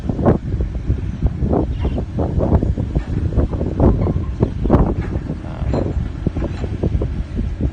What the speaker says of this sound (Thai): ลมแรงมากนะครับผม